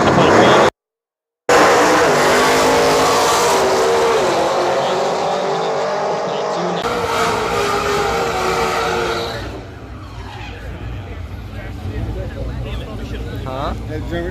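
Race cars roar off the line at a drag strip, a supercharged V8 Chevy SS among them, with a sustained loud engine blast and tire noise that fades to a distant drone after several seconds.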